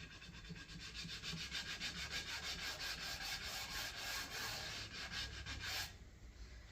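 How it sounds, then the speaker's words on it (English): Finishing sanding on a wooden axe handle before it is oiled: steady, rhythmic back-and-forth rasping strokes, close and continuous, with a faint hiss under each pass. "now I'm just on the finishing sand, really clean off"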